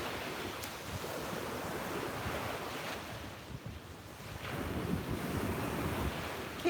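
Ocean waves washing onto a beach at sunrise, a soft continuous surf rumble with gentle swells and light wind noise, faint and steady.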